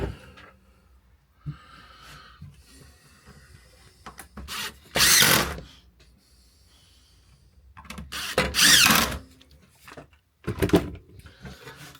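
A power drill drives screws into a wooden rustic Christmas sign in a few separate loud bursts of whirring and grinding, with quieter handling and rubbing noises between them and nobody talking.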